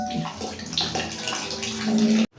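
Running water splashes steadily as hands are washed under an outdoor tap after a flood, a close, loud gush that stops abruptly at the end.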